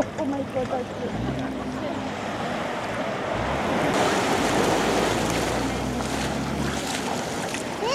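Sea water and waves off Barbados, seen from a P&O Britannia cruise ship in the Caribbean, make a loud, steady wash with wind buffeting the microphone.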